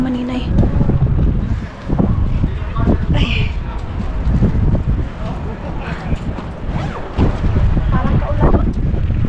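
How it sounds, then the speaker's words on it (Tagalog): Strong wind buffets the microphone in heavy, continuous gusts, with a person talking briefly underneath. "Mahangin mga maninay."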